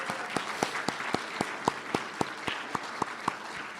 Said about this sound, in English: Sharper Palate was the caterer, so give them a big round of applause, all the servers.